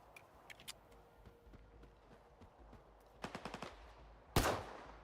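Gunfire in a video game, with a few scattered shots, then a quick burst of rapid fire and one loud close blast near the end, heard alone with no talk.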